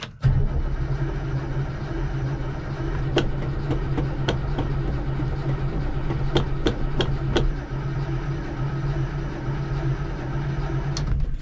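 A big 702 cubic inch engine fires up and settles into a loud, steady low rumble close by, with a few sharp clicks and ticks over the running drone.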